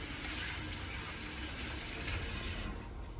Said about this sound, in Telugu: మనం బాగా కడుక్కోవాలి ముందు టమాటోస్